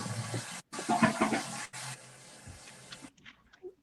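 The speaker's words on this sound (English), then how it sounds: "the flush is actually a pretty cool sound" A toilet flushes with a loud rushing gush of water, then cuts out into a quieter hissing refill that trails off into near silence.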